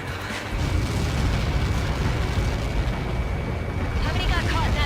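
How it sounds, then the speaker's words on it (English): A massive explosion in the combat flight game Ace Combat 7 lands as a loud, sustained roar of rumbling blast noise that fills the scene and holds steady, with a faint whoosh near the end. "How many got caught in that explosion?"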